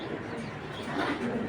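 A racing pigeon, a grizzle hen, coos softly and continuously at close range amid low background noise.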